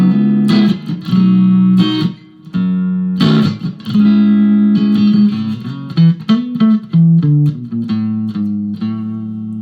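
Electric guitar on an unusual multi-setting instrument, with the detented pickup selector set to type 2, playing chords and single notes in uneven bursts with short gaps, close and loud with no talking.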